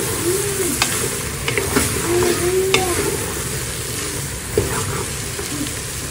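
Bottle gourd sizzles and fries in a pan with occasional stirring clinks and scrapes, a steady hissing background throughout.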